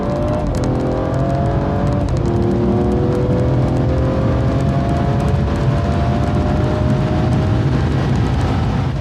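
A BMW F30 340i with a Dorch DS25 upgrade accelerates hard from 60 to 130 mph, its engine droning steadily and rising in pitch through gear changes, loud and close amid constant road and wind roar.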